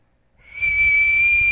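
A person's whistled note, fading in after a short silence and then held as one steady, clear, loud tone close by.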